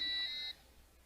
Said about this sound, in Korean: 노란불이 켜질 때는 부저가 울립니다.